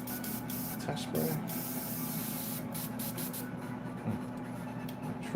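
Spray gun spraying paint onto a Sideshow Darkseid maquette, a steady loud airy hiss broken by short trigger bursts and pauses, with a constant hum underneath.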